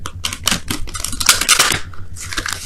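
Tarot cards being shuffled quickly by hand make a rapid run of crisp riffling and slapping bursts close to the microphone, irregular and papery, with no talking during the shuffle.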